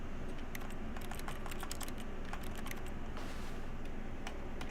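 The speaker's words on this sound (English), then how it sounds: "Press R on your keyboard." Quick, uneven computer keyboard key presses click steadily through a quiet office-like hush in the game The Stanley Parable, a run of light taps at close range with no talking.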